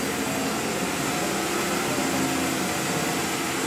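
A new air compressor pulling vacuum in a knifemaking workshop, a loud, steady broadband roar and hum that holds constant throughout with no pauses.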